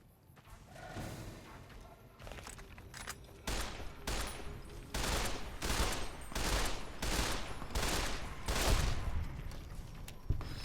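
Gunfire in the video game Fallout: New Vegas, a steady run of loud, evenly spaced shots that grows heavier over several seconds, with a low rumble underneath.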